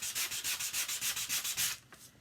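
A small piece of sandpaper is rubbed over a wooden home decor piece in about ten quick, even back-and-forth strokes up close, then stops.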